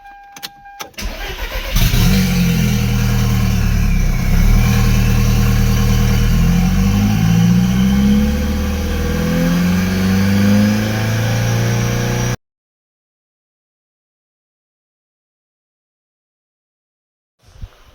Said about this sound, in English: we are finally running on 4 cylinders